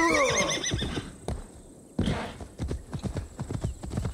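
A horse in the video game Assassin's Creed Valhalla whinnies loudly, then its hooves clip-clop in a quick, steady galloping rhythm close by, with a few harder thuds as it runs on.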